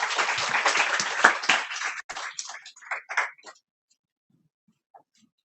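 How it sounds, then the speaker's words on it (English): Applause from a summit audience in Washington DC, dense clapping for about two seconds that thins into scattered claps and fades out by three and a half seconds, followed by near silence. "So please give her a round of applause."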